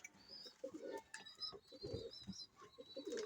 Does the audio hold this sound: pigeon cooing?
yes